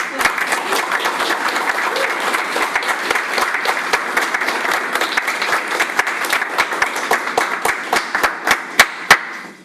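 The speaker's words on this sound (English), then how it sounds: "I want a big round of applause for Caitlin and also." A meetup audience applauds in a dense, sustained round of clapping, which thins toward the end into a few separate, louder claps.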